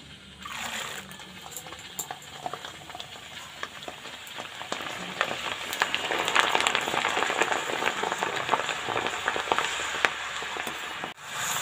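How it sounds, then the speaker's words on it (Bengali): Lentils fry in hot oil for dalmut, giving a continuous crackling sizzle with scattered pops that grows slightly louder midway and carries on steadily until a brief dip near the end. "এখন উনুনটা ধরিয়ে তেলটা গরম করে ডালগুলো ভেজে নেব"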